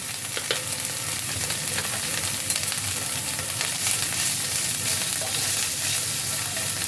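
Kashmiri chilli powder sizzles and fries in a pan with a steady crackling hiss, stirred now and then, loud and close throughout with no voices.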